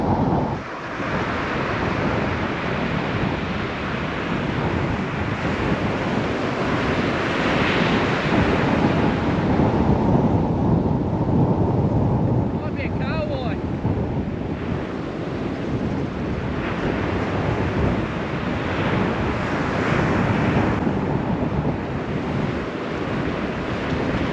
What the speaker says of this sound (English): I don't know if you guys can hear it, but it's bloody windy.